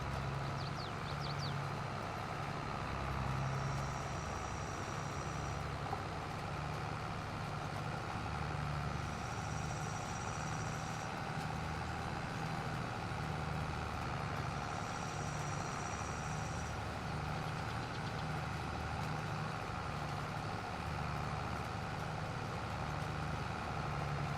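Tractor engine working hard in Farming Simulator 22: a steady, loud low engine drone runs unbroken throughout, with three brief faint high tones rising over it at regular intervals.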